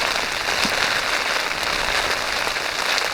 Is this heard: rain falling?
yes